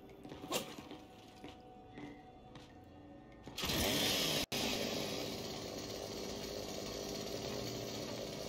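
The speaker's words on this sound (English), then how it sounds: "Chainsaw time." A chainsaw in the video game Gears 5 revs up loudly after a few seconds of quieter rumbling and keeps running as a dense, steady roar with a brief cut partway through.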